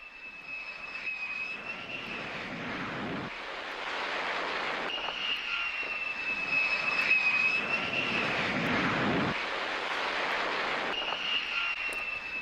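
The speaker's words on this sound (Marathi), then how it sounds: "अब्राहम लिंकन युद्धनौकेवरून विमान उड्डाणाचा व्हिडिओ शेअर करण्यात आला" A jet aircraft launching from the deck of the aircraft carrier Abraham Lincoln: a sustained roaring engine whine with a rising tone, swelling and easing over several seconds in repeated waves, loud and close, with no voices.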